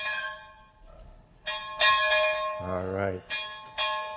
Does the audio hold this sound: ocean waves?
no